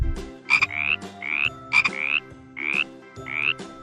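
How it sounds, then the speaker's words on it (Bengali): A frog croaks in a quick repeating pattern, each call a sharp click followed by a rising chirped croak, about five calls in a row, clear and close with nothing else around. "ইঙয়ে ব্যাঙ।"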